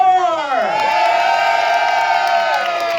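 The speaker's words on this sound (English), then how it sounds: "I want everyone on this side of the audience to help us out and cheer for Amanda and Team Thor!" A zoo animal show audience in Toronto cheers for Team Thor, a loud burst of crowd shouting and whooping that rises sharply and holds for a few seconds, with a sustained tonal sound running through it.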